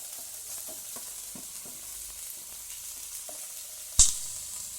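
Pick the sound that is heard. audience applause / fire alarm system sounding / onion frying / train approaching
onion frying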